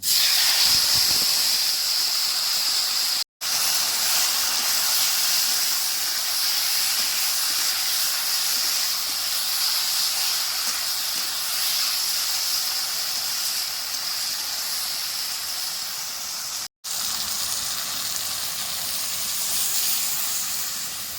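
Crushed vegetables and a pinch of nigella seeds fry in hot mustard oil, making a steady, bright, hissing sizzle that runs unbroken except for two sudden short cuts to silence.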